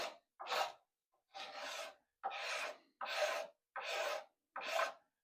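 Bark being scraped off a wooden walking stick in six steady, even strokes, each a close, dry rasp lasting about half a second with short pauses between.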